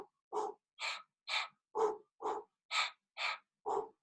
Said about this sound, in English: It's a very grounding breath.